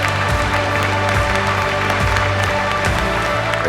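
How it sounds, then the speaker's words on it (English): Steady audience applause at the Ebertfest film festival, a dense wash of clapping that continues evenly throughout, with a low hum running beneath it. "everyone should applaud you for the festival that continues on"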